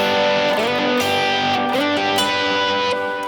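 Electric guitar with overdrive plays full three-note triad chords, a thick, saturated sustained tone with a few chord changes and slides, loud and close with no voices.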